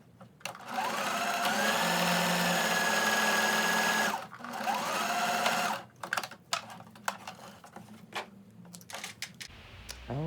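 Sewing machine sewing straight lines on fabric, two close sustained motor runs separated by a brief stop, followed by quieter handling clicks and taps.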